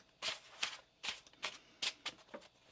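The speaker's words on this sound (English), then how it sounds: "One more shuffle here, please, Anne." Tarot cards are shuffled by hand in a series of quick, crisp riffling bursts, about six or seven close swishes with short gaps between them and no talking.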